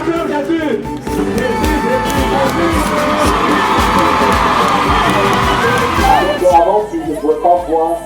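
A large crowd at an evangelistic healing campaign in Douala cheers and acclaims Jesus, with loud sustained shouting, whoops and raised voices swelling together for several seconds before breaking into scattered calls.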